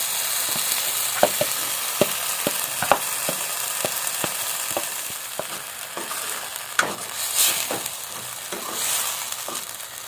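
Masala paste fries in oil in a pan for a Malvani prawn curry, a soft continuous sizzle punctuated by repeated sharp spoon taps and scrapes against the pan, close and without talk.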